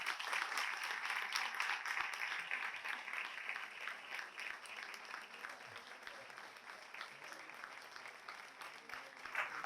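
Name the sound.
audience applause for the author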